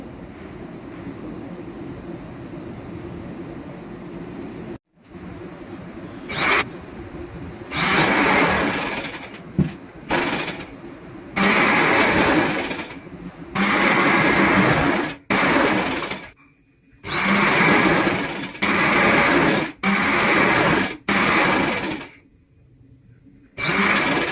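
A sewing machine runs in repeated close bursts of a few seconds each, separated by short pauses, while stitching the folded elastic casing of a three-layer sharara.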